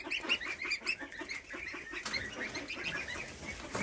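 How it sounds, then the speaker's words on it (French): Newly hatched goslings, a brood of seven, peep in a rapid, high, shrill chorus of overlapping calls that runs steadily throughout at close range. "on a eu des petites oies qui sont nées"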